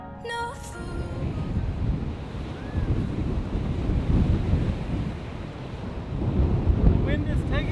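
Strong wind gusts roar across the microphone beside a waterfall pool in Koh Samui, a steady heavy rumble with surging buffets and rushing water, loud and continuous, with a brief voice and music fragment at the start.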